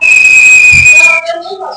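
A loud, steady high-pitched whistle blown continuously for about a second to call back an escaped pet parrot, then it cuts off and a voice speaks briefly.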